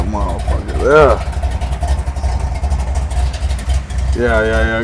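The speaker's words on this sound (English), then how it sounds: "Bad ass motor right there." A supercharged LSA V8 in a 1979 Chevrolet Malibu with no hood idles in a deep, steady, lumpy rumble throughout, while people talk loudly over it nearby.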